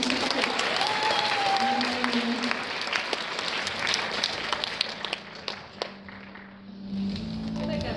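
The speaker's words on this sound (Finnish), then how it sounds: "Taputtakaa." An audience at an anime convention cosplay dating game claps in scattered, moderate applause under a host's voice and background tones, fading partway through.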